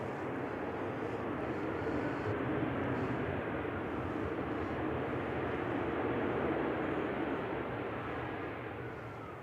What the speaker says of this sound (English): It's a KLM Dreamliner up there.